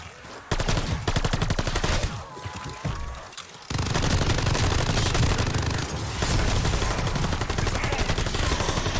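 Rapid automatic gunfire from Call of Duty Vanguard Zombies, loud dense bursts with a short lull before the shooting resumes and continues steadily to the end.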